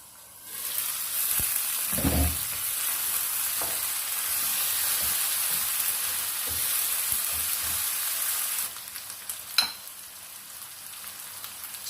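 Chicken frying with whole garam masala gives a steady, bright sizzle with occasional stirring scrapes and clacks, easing slightly toward the end.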